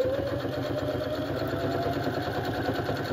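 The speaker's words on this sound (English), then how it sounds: "And we're going to sew." A Janome 725S sewing machine runs steadily through eight layers of fabric, a continuous mechanical hum with a rapid stitching rhythm, alone and fairly close.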